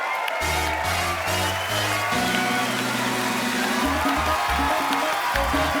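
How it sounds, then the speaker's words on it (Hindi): A studio audience on a comedy talk show claps and cheers loudly and steadily for a family of fourteen arriving on stage, while music plays beneath the applause. "आप लोग भी प्लीज मंच पे आइए, एक बार जोरदार तालियों से स्वागत करिए"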